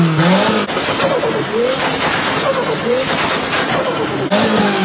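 A turbocharged Honda CR-V engine fitted to a kart revving hard to 7,000 RPM, loud and close with a rising and falling roar, while people talk over it.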